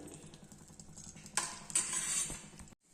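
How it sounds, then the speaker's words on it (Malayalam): Coconut roasting in ghee in a heavy pan on the stove, heard as a low continuous sizzle with scattered clinks and scrapes of a spoon stirring against the metal, growing busier midway before stopping abruptly. "നെയ്യിലാണ് തേങ്ങ വറുത്തെടുക്കുന്നത്."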